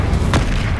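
A single Incendio fire spell bursts in Hogwarts Legacy, a short loud boom-like blast standing out against continuous game background sound.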